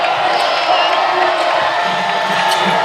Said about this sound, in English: But now they start cheering again